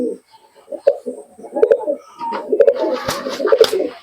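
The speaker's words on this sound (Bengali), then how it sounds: "কালজিরা পায়রা" Kalojira pigeons coo repeatedly at close range at a pigeon sale in Murshidabad, their soft throaty calls overlapping with light rustling and a brief burst of background noise.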